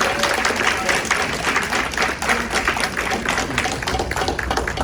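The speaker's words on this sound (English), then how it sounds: "how about a nice round of applause?" An audience at a classical Sunday concert in a public library applauds after a Sicilian dance piece, a full, steady wash of clapping that holds throughout without speech.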